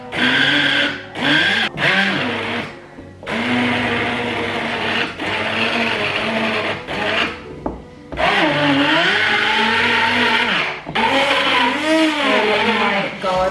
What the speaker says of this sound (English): So now we might break the soup blender too.